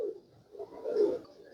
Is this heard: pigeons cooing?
yes